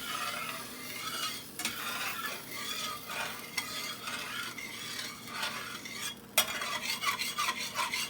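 A spoon stirs chicken gravy in a pan, scraping and swishing close by in an uneven rhythm over a light sizzle, with no talking.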